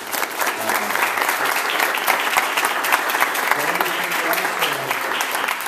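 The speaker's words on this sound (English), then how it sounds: "Let's give her a round of applause." An audience at a Young Senators Program event applauds. Sustained crowd clapping fills the space evenly from start to finish at moderate loudness.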